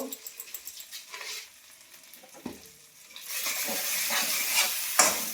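Masala being sautéed in mustard oil in a pan, with scattered stirring clinks at first, then a louder, steady sizzle and occasional utensil taps.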